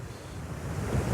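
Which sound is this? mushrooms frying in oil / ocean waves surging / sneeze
ocean waves surging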